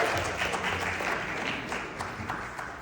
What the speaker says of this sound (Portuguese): Uma salva de palmas para a doutora Lilian Cavalheiro.